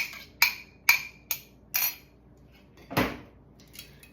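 Egg and pecorino cheese for pasta carbonara being stirred together in a bowl, heard as a run of sharp utensil clinks and taps against the dish at irregular intervals, with one louder scrape near the end.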